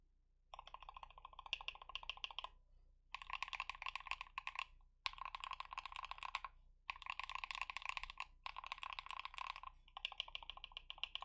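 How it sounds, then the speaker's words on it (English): Rapid clacky typing on a small mechanical keyboard macropad, fast bursts of keystrokes broken by short pauses, close and crisp over a faint low hum. "let's do a typing test"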